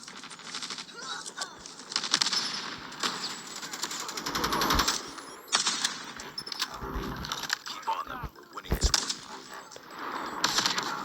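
Gunfire in the mobile game Call of Duty Mobile, with scattered shots and short bursts, clicks and metallic rattles under a voice talking throughout.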